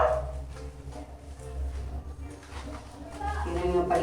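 A mixed-breed dog whines and yips in short, uneven bursts while being bathed. A person keeps talking over the sounds, and there is light background noise.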